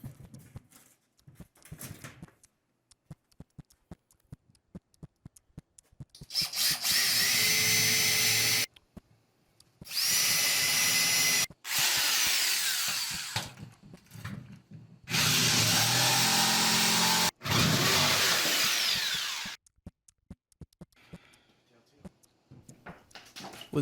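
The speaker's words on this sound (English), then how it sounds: "I'm going to mark it, then I'm going to drill a couple of corner holes." A power drill boring corner holes in a sheet, then a jigsaw cutting out a rectangle; several loud bursts of a few seconds each, separated by quieter gaps with light handling noise.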